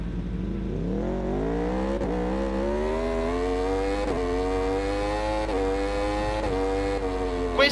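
Racing motorcycle in RiMS Racing, the video game, launching from a race start, its engine pitch climbing steadily and loudly through several gear changes, with brief dips at each shift and a constant close mechanical drone.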